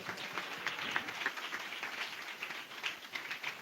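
A church congregation clapping loudly together, a steady wash of many hands applauding at moderate distance, continuous with no break.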